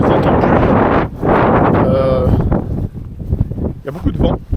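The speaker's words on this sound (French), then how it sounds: "Il y a beaucoup de vent quand même," Strong outdoor wind buffets the microphone in loud, rumbling gusts that come and go, with a person's voice talking partly under it.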